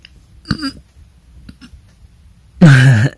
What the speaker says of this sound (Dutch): Dat waren goede boeren.